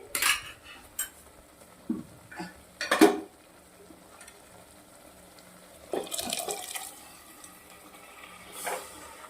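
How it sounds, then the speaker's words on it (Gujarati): Boiled chora (black-eyed) beans tipped from a container into thick simmering gravy in a cooking pot, giving a few sharp utensil clinks and wet splashy stirring bursts, close and moderately loud, with quiet pauses between. "હવે આપણા જે ચોરા બાફેલા છે એ નાખી દેવાના છે"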